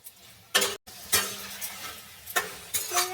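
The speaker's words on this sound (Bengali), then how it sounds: "নাড়াচাড়া করা হয়ে গেছে।" A spoon stirs swarna data stems and potato curry in a pan, giving a few scraping, sizzling bursts separated by quieter gaps, close and moderately loud.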